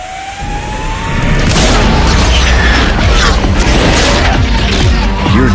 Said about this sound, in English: hear different high-performance sounds blasting out from both inside and outside